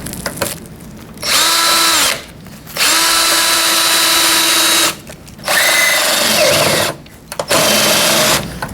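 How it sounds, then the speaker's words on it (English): A power drill drives self-tapping screws in four sustained whirring bursts, each a few seconds long with brief pauses between, loud and close with a steady motor pitch. "we're going to zip those in with a drill"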